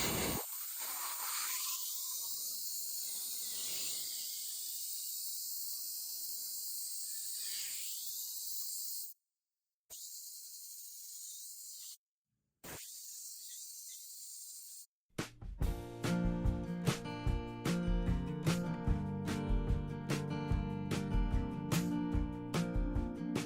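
A Vevor 20 gallon sand blaster, fed by an air compressor at 90 PSI, blasts sand at a caliper with a sustained hiss broken by a few short pauses, followed by a busier, clattering stretch of blasting.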